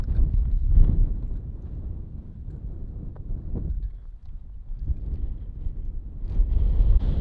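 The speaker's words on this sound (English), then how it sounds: "although the wind here is no better." Wind gusts at a camping area with a fire pit among the rock formations near Moab, roaring and buffeting the microphone in low rumbling surges that ease mid-way and build again, with no voices.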